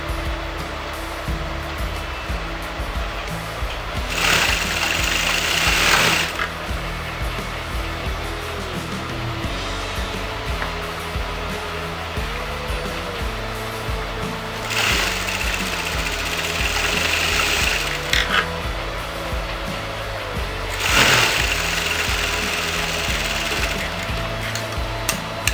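Three separate runs of sewing machine stitching on a circle skirt lehenga rise over a steady background hum. Each burst lasts a few seconds and sounds close and moderately loud.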